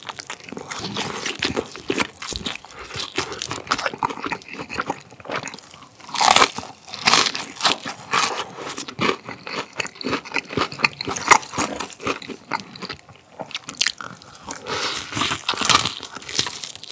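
Crunchy Bburinkle fried chicken, cheese-seasoned breast meat, being bitten and chewed up close, with loud crisp crunches and steady mastication repeating throughout and no talking.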